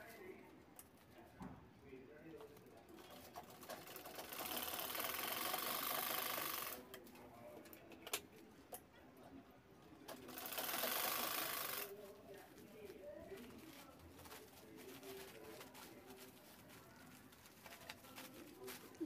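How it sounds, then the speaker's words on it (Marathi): Sewing machine stitching the four corners of a fabric shopping bag, two sustained whirring runs of a few seconds each with quiet handling noises and soft talk between them. "असं व्यवस्थित जुळवून शिलाई करून घ्यायची चारही कोपऱ्यांना."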